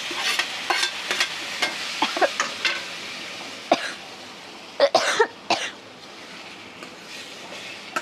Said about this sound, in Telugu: ఇప్పుడు ఇదిగోండి ఈ టమాటాలని వేసేసుకుంటున్నాం